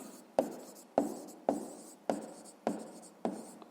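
Pen writing out a sixth-grade maths solution on paper, six rhythmic scratching strokes at a steady pace, close and quiet, with no talking.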